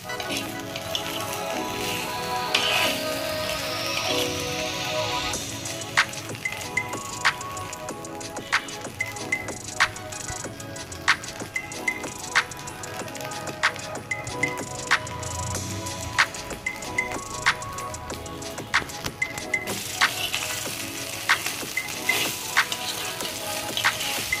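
Idli roasting in ghee in a pan while being stirred: a steady frying sizzle runs throughout, with frequent sharp clicks and scrapes of the spoon against the pan at an uneven rhythm, close and clear.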